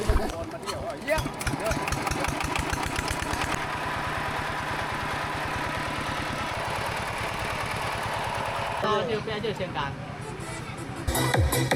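A generator engine supplying power to the sound system at a wedding in a rural village without mains electricity chugs steadily at idle, a loud, even mechanical drone throughout with muffled voices nearby.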